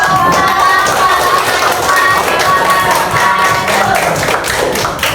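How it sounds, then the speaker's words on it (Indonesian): A classroom of students claps in steady, dense applause for a group presentation, close and loud throughout, with a few voices mixed in underneath. "Berikan aplaus."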